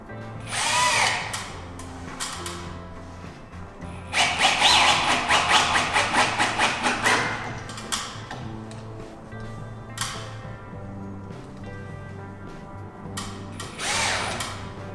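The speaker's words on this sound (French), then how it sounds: "je vais maintenant aller visser mon angle" A cordless drill drives screws into the corner of a wooden flat-roof garden shed, with several sharp whirring bursts of varying length separated by pauses and a few light clicks and taps.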